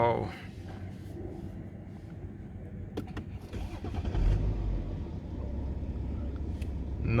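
A repaired BMW F11 535xd engine starts and settles into a steady running rumble after a quiet stretch, growing louder midway as a voice talks over it.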